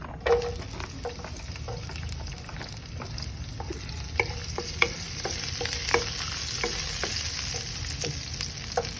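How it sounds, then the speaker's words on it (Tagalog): Garlic sautés in a pan for chicken mechado, a steady close sizzle running throughout with scattered sharp clinks and scrapes of stirring, no voices. "now we're gonna saute the garlic"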